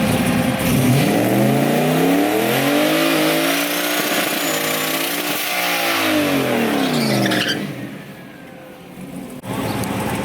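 A street drag racing truck with a rebuilt engine, transmission and converter makes a pass, its engine rising through repeated shifts with a sweeping wail, loud and close, then falling away into quieter background noise near the end.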